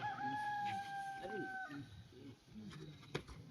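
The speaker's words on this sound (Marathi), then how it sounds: "कोंबड्याचा आवाज सुटला म्हणजे पहाटेची वेळ सुरुवात झाली." A rooster crows at dawn in a long, clear, fairly close call that holds steady for over a second, with crowd murmur and announcer talk from a village kabaddi match continuing underneath.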